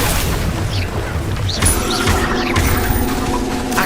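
The Expelliarmus spell is cast in Hogwarts Legacy: loud, booming magical blasts with sharp crashing impacts and whooshing sweeps, several in quick succession.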